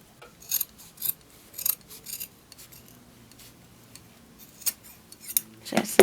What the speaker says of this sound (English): just flip this out and kind of cut out the excess fabric